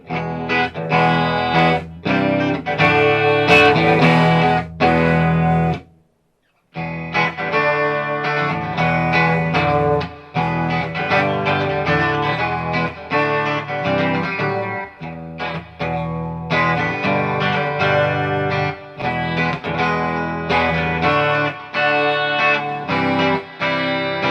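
A distorted electric guitar plays chords and riffs through a Quilter 101 Reverb Mini Head amp with a wash of reverb, loud and continuous, with one brief silent pause.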